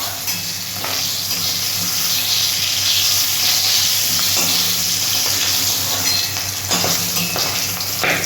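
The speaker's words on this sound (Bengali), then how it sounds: "বাকি মাছগুলো এইভাবে আমি ভেজে নেব।" Fish fries in hot oil in a pan, a steady close sizzle with crackling spatter running throughout, swelling briefly at a few points as pieces shift in the oil.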